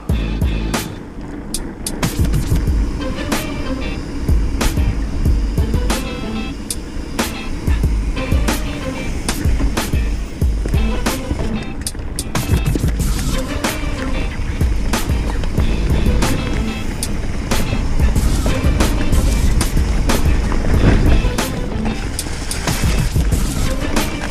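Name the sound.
mountain bike riding fast down a lumpy trail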